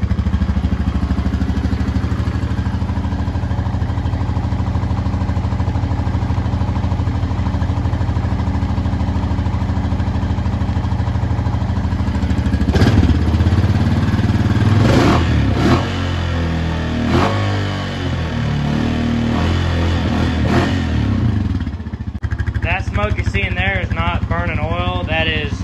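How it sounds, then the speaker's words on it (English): A 2020 Honda Rubicon 520 ATV engine, after being swamped, idles steadily and is then revved a few times in close succession before settling, with a person speaking near the end. "So we'll go ahead and give it a couple revs."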